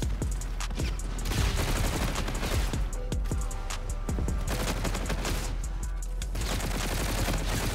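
Rapid bursts of video game gunfire in Call of Duty: Infinite Warfare crackle nonstop in a dense, loud barrage, with sharp individual shots piling up over a steady rumbling background.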